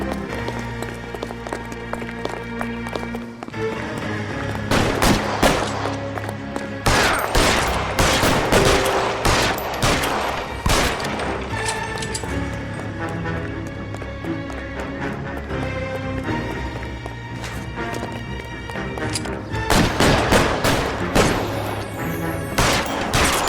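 Gunfire in the crime video game L.A. Noire, with sustained bursts of shots and rapid automatic fire layered over a tense musical score, loud and dense throughout an alley shootout.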